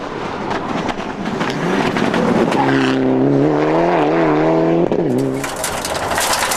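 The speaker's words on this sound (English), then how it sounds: "But the Evo is taking a pounding, and on stages 3 and 4 they begin to encounter a gearbox problem." A Mitsubishi Evo rally car with a gearbox problem blasts along a stage at the 2003 Donegal International Rally, engine roaring and shifting pitch up close, with a gravelly rush of tyres.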